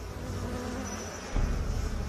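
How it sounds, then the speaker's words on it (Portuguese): Bees and wasps buzz in a dense, continuous drone, fairly loud and close, with a brief thump partway through and no voices. "Abelhas, vespas e marimbondos assustam todos nós."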